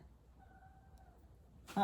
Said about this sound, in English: The cat is very excited about this.